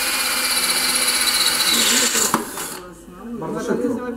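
A Yato power drill bores a hole, its steady high whine running loud and continuous for about two and a half seconds before cutting off, followed by a quieter tail of handling noise.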